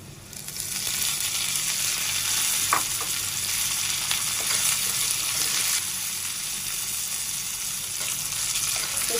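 Nigella seeds, curry leaves, whole dried chillies and green chillies fry in hot oil, giving a continuous close sizzle with occasional stirring scrapes and small pops.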